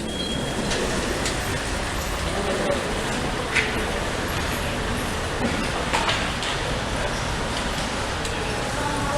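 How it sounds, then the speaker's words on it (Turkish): Busy metro station ambience in Adana, Turkey, with a steady rumble of trains, echoing footsteps and distant voices mixing in the background. "Metro çıkışı."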